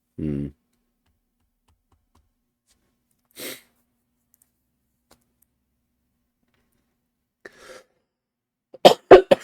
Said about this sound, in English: I have a cough right now.